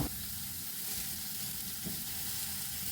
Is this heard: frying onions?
yes